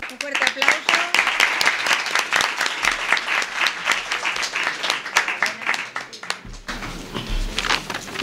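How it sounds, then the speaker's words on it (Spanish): An audience at a short-story award ceremony in a municipal library applauds warmly, mixed crisp claps close by, with murmuring voices and a shift in the room sound toward the end. "Un fuerte aplauso."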